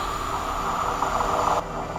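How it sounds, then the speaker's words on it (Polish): Passing train, a steady broad rushing rumble with a strong mid-range roar that swells briefly and then drops off abruptly near the end, heard alone without talk. "Jedzie pociąg"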